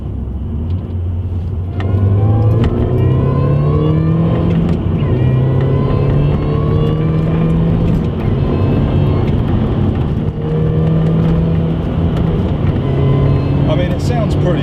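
Supercharged Mini fitted with an Orranje cold air intake, driving with a steady loud engine drone and a rising whine that shifts pitch as it goes, continuous and close throughout.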